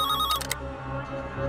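A telephone rings in a Hindi TV drama, a short electronic ringtone trill that cuts off after about half a second over a soft musical background.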